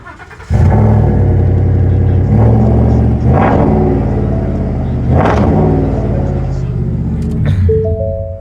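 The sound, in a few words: V8 pickup truck engine starting, dual exhaust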